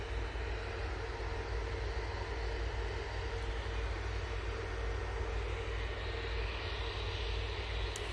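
An Air Tanker aircraft lines up on the runway behind an airliner, its engines giving a steady, distant low roar and broadband hiss that holds evenly throughout, with no voices.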